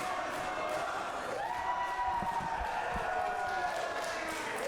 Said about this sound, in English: I'm just listening to the crowd here.